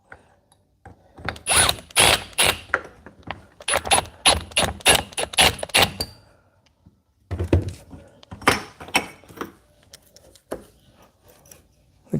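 A repaired door motor assembly runs in loud bursts of rapid mechanical clicking and ratcheting, several seconds on, a brief pause, then more clattering runs, close and alone.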